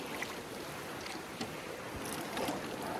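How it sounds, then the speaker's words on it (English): Canoe paddling across a lake in Algonquin, a soft wash of water and wind with a few light paddle strokes and drips, quiet and close, with no voices. "we should be paddling this lake for about the next 2 hours"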